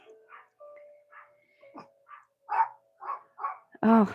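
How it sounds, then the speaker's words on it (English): Dogs bark in a quick series of sharp, fairly close yaps in a home, with a thin whine in the background and a short spoken exclamation at the end. "I do apologize for the dogs."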